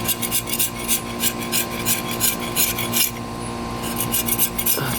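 Paint is scraped and rasped off an old BMX bike frame in repeated rhythmic strokes, close and fairly loud, each pass a gritty scratching burst over a low steady background hum.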